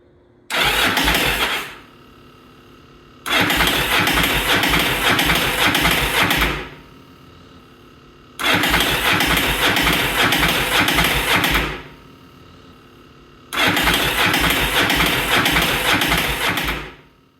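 A Yamaha V Star motorcycle engine cranks over in four separate bursts, each lasting a few seconds with quiet pauses between, loud and close, never quite catching.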